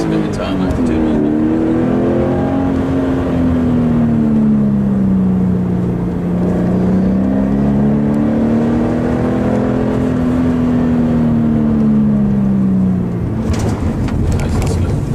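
Car accelerating on a road during braking practice, the engine note rising and falling steadily and loudly for the whole stretch, with people talking in the cabin.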